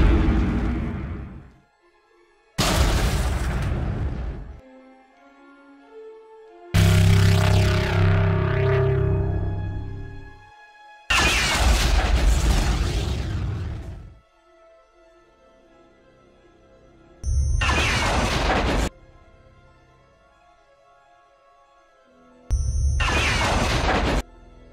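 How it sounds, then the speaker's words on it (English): A series of separate explosion blasts, each a loud booming roar with crackling debris, fading out before the next one hits. "Adding an assortment of explosions and mixing them into the carnage"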